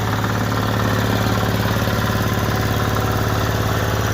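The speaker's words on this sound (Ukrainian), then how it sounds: "ключ запалення, трошки даємо газу, вижимаємо декомпресор, заводимо." A Kentavr 10D mini tractor's small engine idles steadily with a low, even chugging rhythm, close by and continuous throughout, with no talking.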